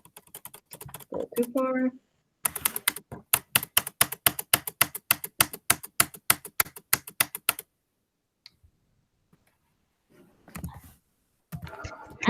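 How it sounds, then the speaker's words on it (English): Rapid computer keyboard typing in bursts, loud and close, with a short spoken remark before the clicks and more talk after a pause. "Smacking their keyboard."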